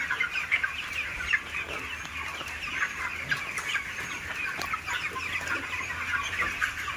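Thousands of chicks fill a 200-foot-long, 26-foot-wide poultry shed with a dense, continuous chorus of high peeping, steady and near throughout.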